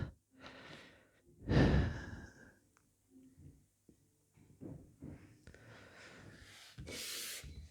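A person takes a few deep breaths while holding a side lat stretch during a home workout, with soft breathy exhales and sighs near the mic, one louder and clearer than the rest, separated by quiet gaps.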